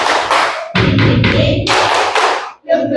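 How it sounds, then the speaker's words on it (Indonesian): A classroom group performs the tepuk semangat clapping chant, with sharp hand claps and thumping beats in a quick rhythmic pattern, close and loud, while voices chant along between the claps. "mari kita tepuk semangat"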